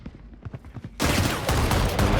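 Shotguns fire back and forth during an esports video game match: a few scattered shots first, then a sudden loud, dense burst of continuous gunfire and blasts.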